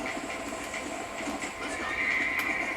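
A horse in the video game Red Dead Redemption neighs and whinnies loudly over a steady clip-clop of hooves and a constant game ambience, with no talking.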